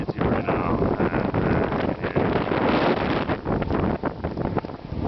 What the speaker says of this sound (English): Cold and windy here.